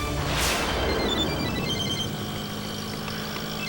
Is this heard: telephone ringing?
yes